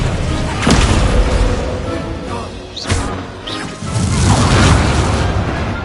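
Incendio and Expelliarmus spells cast in a Hogwarts Legacy duel, loud booming whooshes and bursts with sharp hits around the middle, layered over continuous game effects.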